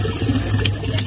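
Tap water runs in a steady stream at an outdoor village tap where cattle drink, a continuous near splashing flow with brief brighter spurts and no talk.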